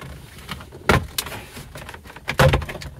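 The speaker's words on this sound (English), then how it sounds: "This whole switch plate here unsnaps as one unit" Plastic clicks and snaps come from a Toyota Grand Highlander interior as a switch plate near the shifter is pried loose, with a few sharp pops and rustling handling noises at close range.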